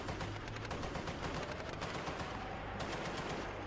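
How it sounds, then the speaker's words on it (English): Sustained machine-gun fire from an infantry fighting vehicle during a combat assault in the Kursk region, a loud, dense, continuous rattle of rapid shots with heavy low rumble and no speech. "the machine gun continues to fire to suppress them"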